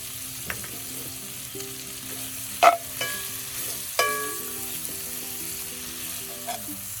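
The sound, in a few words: breakfast hash sizzling in butter on Lodge Sportsman grill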